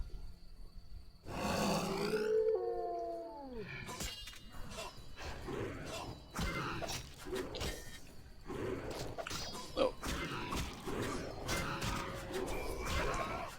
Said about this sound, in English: It's those dogs. Those hellhounds.